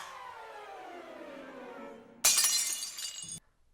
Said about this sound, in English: she takes the other glass slipper and destroys it